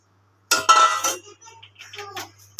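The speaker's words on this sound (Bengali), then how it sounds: "এরপরে পাস্তাটি ঢেলে দিব।" Pasta tipped from a container into a cooking pan, giving a loud burst of clattering, clinking hard pieces for about half a second, then scattered lighter rattles and taps, close by with no talk.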